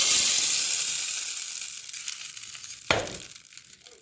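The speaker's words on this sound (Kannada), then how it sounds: "ಈ ಒಂದು ಬಾಣಲಿಗೆ ಒಂದು ಟೇಬಲ್ ಸ್ಪೂನ್ ಎಣ್ಣೆ, ಒಂದು ಸ್ವಲ್ಪ ಸಾಸಿವೆ ಹಾಗೆ ಹಸಿ ಕರ್ಬೇವಿನ ಸೊಪ್ಪು ಹಾಕಿಬಿಟ್ಟು ಲೈಟಾಗಿ ಫ್ರೈ ಆಗಿದ ತಕ್ಷಣ" Mustard seeds and curry leaves hit hot oil for a South Indian tempering, giving a bright, hissing sizzle that starts loud and slowly fades, with one sharp crackle or clink near the end.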